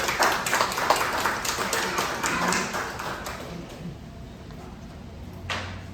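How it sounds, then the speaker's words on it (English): Audience at a historical society talk applauding, a burst of clapping that fades out over several seconds. "help me give Renata a big round of applause for this"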